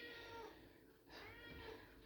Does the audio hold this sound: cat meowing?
yes